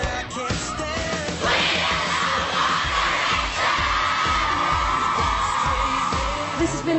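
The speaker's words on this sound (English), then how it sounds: "The girls have been screaming and falling" A dense crowd of girl fans of a boy band screams and yells continuously, loud and chaotic, with a steady rhythmic thumping running underneath throughout.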